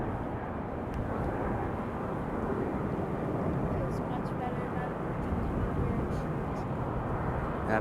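Airbus A321 airliner turning at Raleigh-Durham airport, its engines giving a steady, broad roar at moderate distance that holds level throughout without clear rise or fade.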